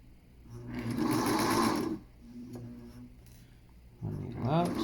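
A sewing machine stitches a rope dart pouch on a wider stitch setting, running in two steady bursts with a lull between them, and a voice talks briefly near the end.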